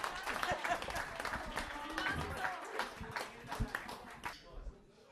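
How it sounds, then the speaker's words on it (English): Wedding guests clap as the father of the bride is called up, a scattered, uneven burst of hands at a fair distance, mixed with chatter and shuffling, fading toward the end. "round of applause, please."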